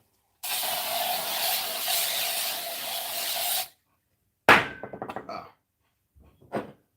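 A steady, loud hiss of an aerosol fly spray lasts about three seconds, followed by a few clunks and knocks nearby.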